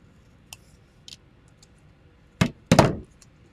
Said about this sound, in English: But I'm just going to use my scissors